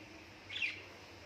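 A brief burst of high chirping from pet birds in a cold wind before a nor'wester storm stands out over a low steady hum, lasting only a moment before fading.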